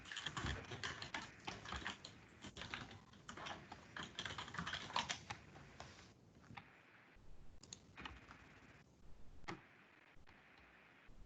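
Fast typing on a computer keyboard, a close run of crisp key clicks in uneven bursts with brief pauses, carrying on for about eleven seconds at low volume.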